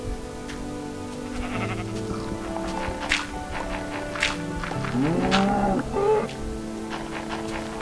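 A cow in the game Minecraft mooing inside a house, a few short bleating calls over blocky footstep clicks and game sounds, fairly close.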